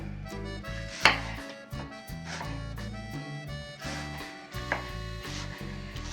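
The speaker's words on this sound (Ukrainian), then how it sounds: "Нарізаю дрібненьку цибулю." A knife taps rapidly on a cutting board in quick uneven bursts as an onion is finely chopped, close up, while soft music plays underneath.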